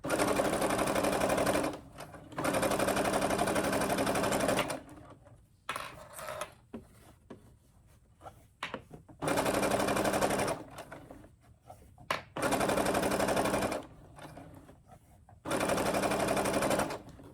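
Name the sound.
Brother sewing machine stitching fabric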